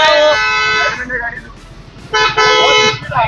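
A car horn honks on a road in Nashik, two loud sustained blasts separated by a short gap, close behind with traffic noise and voices in the background.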